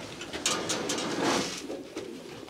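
Soft cooing of racing pigeons in a loft repeats several times nearby, low and throaty, over a quiet indoor background.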